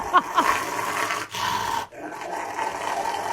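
A dog growls while its nails are being clipped, a low rumbling snarl rising and falling over about three seconds, with brief breaks in the sound.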